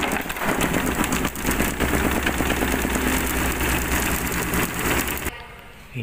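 A Lux Royal WH 1092 washing machine spins fast after its E52 error is cleared, a steady low mechanical hum and rumble with a dense whir throughout, dropping off sharply near the end.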